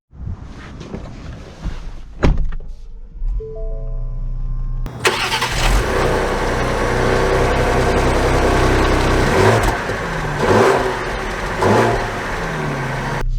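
A 2023 Ford Explorer ST engine starts with a sharp crank, settles into an idle, then rises to a steady loud cabin drone as the car gets underway, with no talking.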